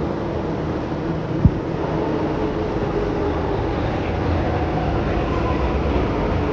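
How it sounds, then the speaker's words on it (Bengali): Delhi Metro train running, a loud steady broadband rumble and rushing roar heard from inside or beside the carriage, continuous throughout with one brief sharp click early on. "Welcome to Delhi metro."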